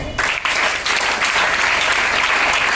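Loud, close clapping from a group of children at a school assembly, a dense continuous patter of hands starting abruptly and staying strong throughout.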